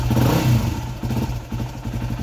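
A Yamaha WR250R motorcycle engine runs near idle, a close, rough, pulsing mechanical drone with a slight rise in revs early on, then an uneven, chattering idle.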